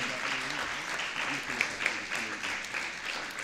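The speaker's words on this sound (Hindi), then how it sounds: "एक बार जोरदार तालियां हो जाएं उनके सम्मान।" Applause from a seated audience at an honour ceremony in Indore, a steady, moderately distant wash of many hands clapping throughout, with a couple of sharper individual claps standing out.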